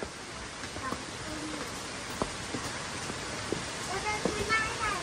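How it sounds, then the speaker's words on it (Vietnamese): Rain falling steadily through a whole day, a soft, even patter with scattered drips close by and quiet talking underneath. "hôm nay là mưa cả ngày đấy nhỉ ừ. mưa buồn quá"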